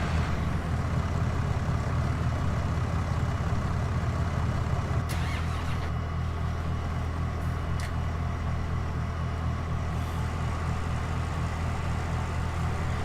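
A Case tractor in Farming Simulator 19 idles with a steady, low, droning engine rumble that holds constant throughout, with a couple of faint clicks on top.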